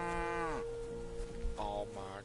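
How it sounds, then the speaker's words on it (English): A cow in the video game Kingdom Come moos twice, a long low call followed by a shorter one, fairly quiet and clear without talk. "Oh my god, is that a cow?"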